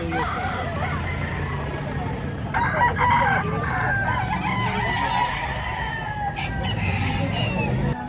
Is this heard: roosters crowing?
yes